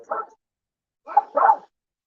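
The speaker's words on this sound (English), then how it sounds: "I can't make the blind, deaf 17-year-old dog stop" A blind, deaf 17-year-old dog barking indoors, one short bark and then a quick double bark after a pause, close and fairly loud.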